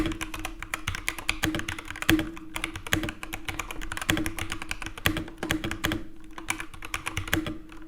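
Fast, continuous typing on a mechanical keyboard with red switches, dense rapid key clicks with a steady rhythm, close and moderately quiet, with no voices.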